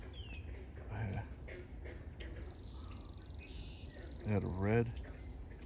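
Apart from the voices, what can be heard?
frogs croaking in a park wetland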